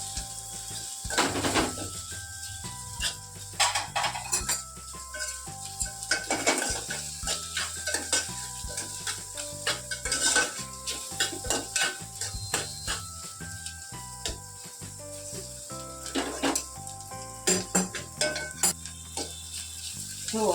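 A spoon stirs Kathiawadi eggplant curry with garlic chutney in a pan, giving repeated close scrapes and metallic clinks over a soft sizzle, with a faint tonal background and no speech.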